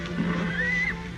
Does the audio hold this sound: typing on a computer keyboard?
no